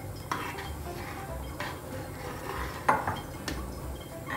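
A spoon stirs a pot of thickened Sindhi kadhi curry with coriander added, making soft bubbling and repeated scraping knocks against the metal, fairly quiet and close, with no speech.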